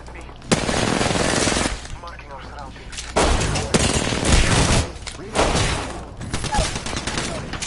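Enemy gunfire in the Apex Legends game, loud bursts of rapid automatic fire in several long volleys separated by short pauses, with speech mixed in.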